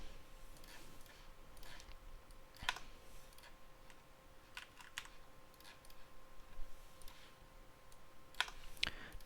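Keyboard typing and mouse clicks at a computer while building a map in the Portal level editor, quiet scattered taps and clicks in irregular bursts against a faint steady hum.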